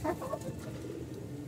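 Pigeons in an indoor loft room give a short, soft low coo near at hand, with faint rustling behind.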